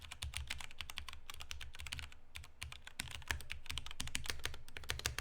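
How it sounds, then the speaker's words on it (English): Typing on a Mountain Everest Max RGB gaming keyboard: rapid, close clacking keystrokes in bursts with brief pauses, fairly quiet against low background hum. "so you can hear what this keyboard sounds like"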